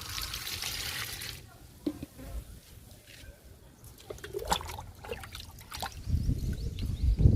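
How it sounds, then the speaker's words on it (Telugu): Liquid fertilizer is poured onto potted plants, including a fig, giving a trickling, splashing stream of water that comes and goes and grows heavier toward the end, with a person speaking in between. "మొక్కలకి ఇచ్చేద్దాము లిక్విడ్ని."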